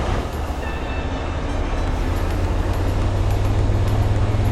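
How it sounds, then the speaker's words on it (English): Freightliner Cascadia with a Detroit DD15 diesel engine during a forced DPF regen, a loud close rumbling drone whose low hum rises and steadies as the engine speed climbs, with no talking. "as soon as we hit the start button, we're going to hear the RPM increase on this Freightliner"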